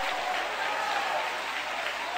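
A church congregation at an evangelical service claps together in a dense, even wash of applause, steady and fairly loud from start to end, with no voice standing out.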